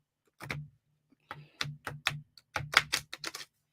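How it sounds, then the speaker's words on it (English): Tarot cards being riffle shuffled give off quick bursts of crisp flutters and small taps, close by and fairly quiet, in short uneven clusters with pauses between them. "I've been practicing my riffle shuffles"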